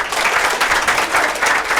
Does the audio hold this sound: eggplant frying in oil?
no